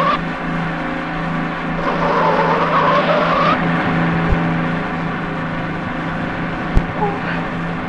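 A car's tires squeal continuously as it takes corners fast, with a steady engine hum under the screech and a couple of sharp knocks near the end.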